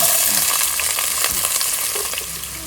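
Small shallots, onions and chilies fry in oil in a pan after fish has been fried, a loud, continuous sizzle with stirring scrapes, alone and steady throughout.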